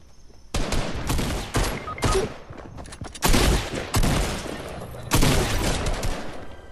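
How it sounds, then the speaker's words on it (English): Rapid bursts of gunfire in the video game Fortnite, several loud volleys of automatic shots separated by brief pauses, with no talking. "Shots fired! Shots fired!"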